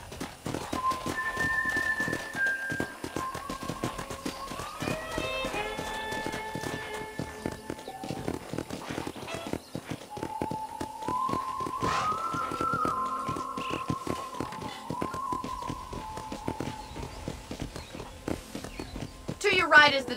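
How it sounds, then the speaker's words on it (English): Rhythmic clip-clop of horse hooves in Red Dead Redemption on Nintendo Switch runs steadily throughout, mixed with tonal game music and occasional voice-like sounds. "let's see if you can still ride a horse"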